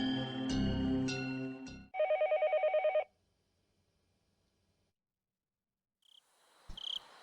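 A telephone rings in a visual novel game as a late-night call is placed: a musical tone sequence gives way to a rapid trilling ring burst lasting about a second, then near silence and a couple of faint electronic blips.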